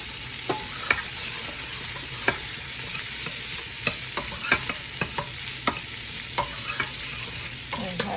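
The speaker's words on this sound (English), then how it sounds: "And have this sauté for a little while." Soaked, drained cashew nuts sauté in a pan, giving a steady soft sizzle broken by scattered sharp clicks and taps of a stirring spoon against the pan.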